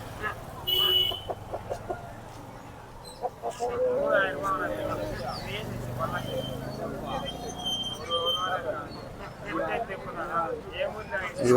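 Roosters and hens at a busy goat and poultry market in Ranipet, clucking and calling among a crowd, with people talking throughout and a general bustle of the market in the background.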